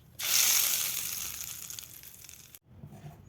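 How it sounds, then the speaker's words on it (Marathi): A hot tempering of mustard seeds and cumin hits a chutney with a sudden loud sizzle. The sizzle hisses strongly at first, fades over about two seconds and then cuts off, leaving quiet kitchen noise. "आता त्याच्यामध्ये टाकून घेऊया."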